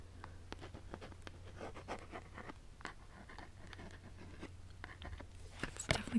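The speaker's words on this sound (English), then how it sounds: "Can I try writing something on the box here?" A pen scratching out writing on a cardboard shopping box, quiet close strokes in a loose stop-start rhythm with small taps and rustles, no talking.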